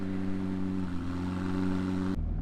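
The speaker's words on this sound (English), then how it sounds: "The idle suddenly got really rough." A prototype McLaren engine idles roughly, giving a steady low droning hum with a slight shift partway through before it cuts off abruptly near the end.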